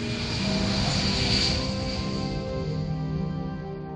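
A Global Hawk unmanned military surveillance aircraft flies by, producing a loud, continuous jet roar that swells slightly and then eases off steadily, with no voices over it.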